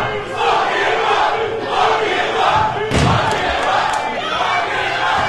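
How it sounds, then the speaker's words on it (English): A wrestling event crowd roars and cheers continuously around the ring, loud and dense, with shouts rising and falling throughout and no clear commentary over it. "Listen to the crowd."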